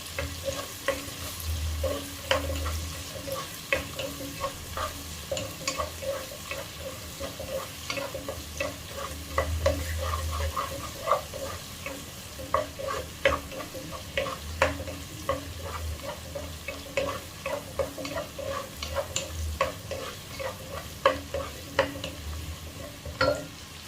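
Chicken curry masala with green chilies, ginger and spices being stirred in a hot pan: steady sizzling and frying with repeated scraping strokes of a spoon throughout, close and continuous with no talking.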